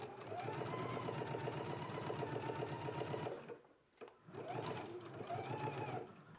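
A sewing machine runs edge stitching along a pocket, its needle hammering in a fast steady rhythm close by, stopping briefly for about a second before starting up again.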